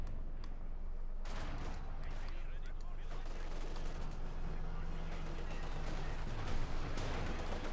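Gunfire and explosions from a battle in the video game Company of Heroes 2, including a Pak 40 anti-tank gun firing, heard as dense, continuous booms and shots under a commentator's voice.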